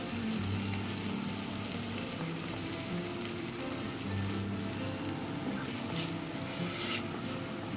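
Ginger paste and chili paste with a pinch of salt frying and being stirred in a pan, giving a steady, close sizzle with a low hum underneath throughout.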